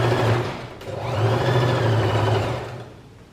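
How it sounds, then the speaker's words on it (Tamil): A sewing machine stitches the lining of a double-zipper fabric pencil pouch with a close, loud, steady hum. The hum dips briefly and then runs on for a few seconds before easing off. "இந்த மாதிரி தான் நம்ம தைக்கணும்."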